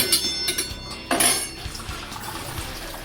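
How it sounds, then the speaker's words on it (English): Water poured from a cup into a cooking vessel, with clinks of the cup against the pot, a short splashing pour and quieter trickles afterward. "First in this we will pour 2 cups of water."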